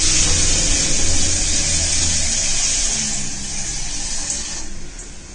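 Water is poured steadily into a blender cup while making chicken coxinha filling, a loud rushing splash that holds constant and then tapers off near the end.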